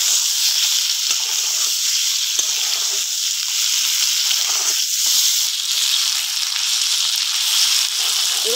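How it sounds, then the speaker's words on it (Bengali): Marinated mixed river fish from the Sundarbans fry in hot oil with a steady, loud, close hiss and crackle that runs unbroken throughout, with a few soft stirring knocks and no talk. "এবার মাখিয়ে রাখা ওই মাছগুলো এবার তেলের মধ্যে দিয়ে দেবো"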